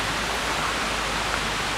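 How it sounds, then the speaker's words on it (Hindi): Brindaha waterfall in Kodarma, a tall cascade falling from a height with people bathing below, heard up close as a loud, steady, unbroken roar of rushing water. "ये देखिए मेरे पीछे पूरा ये बड़ा सा झरना"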